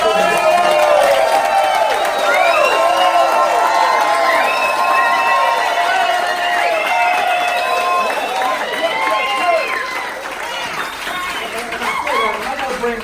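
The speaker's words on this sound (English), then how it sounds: "y'all give him and his family a round of applause" A crowd applauds and cheers loudly, with whoops and shouts rising over continuous clapping that gradually tapers off.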